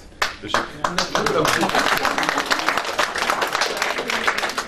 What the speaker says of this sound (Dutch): Corine verdient eigenlijk het grootste applaus